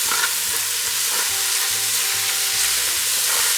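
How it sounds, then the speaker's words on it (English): Shallots frying in a pan for chicken curry, stirred with steady scraping strokes over a constant loud sizzle, several stirring passes close by with no voices. "Give it a quick stir"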